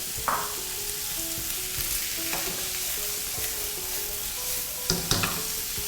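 Beef stir-fried in a hot pan for a sweet-pepper beef dish gives a loud, steady sizzle broken by scraping stirring strokes and a few sharper clatters, with no voices.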